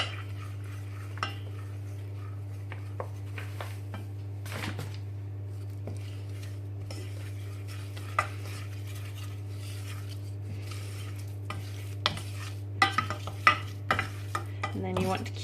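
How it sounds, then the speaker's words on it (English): Flour being stirred into melted butter in a pan for a roux, soft scraping spoon strokes against the pan over a low steady hum, with a few louder clinks near the end. "What you want to do is add the flour slowly, stirring all the time so that it gets all mixed in nicely with the melted butter"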